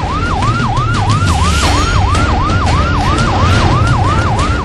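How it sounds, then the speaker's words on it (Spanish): Wailing police patrol car sirens from several 911 units rise and fall in a steady, rapid cycle, loud and continuous over street traffic rumble in downtown San Salvador. "Varias patrullas del 911 encienden su sirena en el centro de San Salvador para llegar lo más pronto posible al Parque Centenario"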